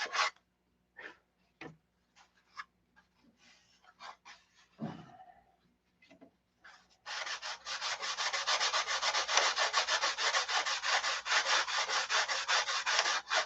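Steady, continuous hand sanding of a P-47 model cowl, starting partway through after a few scattered taps and handling sounds, then rasping loudly and evenly without pause to the end.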